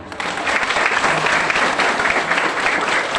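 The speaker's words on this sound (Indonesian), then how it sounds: "iring tepuk tangan dulu" Steady, dense applause from an audience at a Balinese bondres comedy performance, continuous and fairly loud for the whole stretch with no break.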